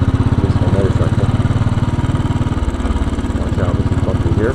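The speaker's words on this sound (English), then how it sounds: "This is my motorcycle." A 2010 Royal Enfield Bullet motorcycle engine runs close by in Brooklyn with a fast, pulsing putter, loud and steady, with a voice briefly speaking over it.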